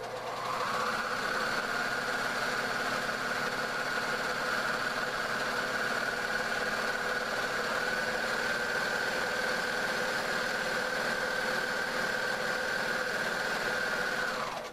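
A serger machine stitching a rolled hem on napkin fabric makes a continuous, steady motor whir with a rapid mechanical hum. It runs evenly and close for the whole stretch with no talking, then cuts off at the end.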